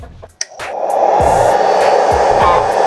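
A repaired inverter cooling fan starts up with a brief click, then runs as a steady, loud, close-up whir with a broadband airflow hiss and no voices.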